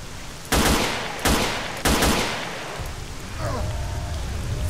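Video game gunfire, a few loud bursts of rapid shots in quick succession followed by a lingering rumble, with a faint voice underneath.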